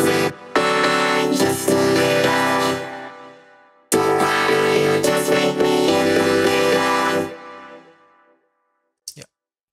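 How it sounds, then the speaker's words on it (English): Vocoded vocal hook in a dance-pop remake built in Ableton Live using Live's built-in vocoder on an a cappella, playing loud and full alone in two matching phrases, then stopping abruptly with a brief blip near the end. "I use a vocoder again in this track."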